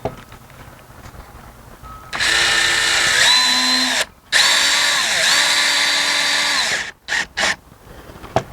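A power drill drives screws into a Trex composite railing kit during installation, whining loudly in long bursts with a brief pause in the middle, then stopping in short clipped spurts near the end.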